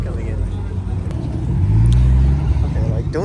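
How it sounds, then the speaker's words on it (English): A truck drives in at a car meet on an ocean beach, a low engine rumble that swells nearer and louder mid-clip, with people talking over it. "look at that truck coming in."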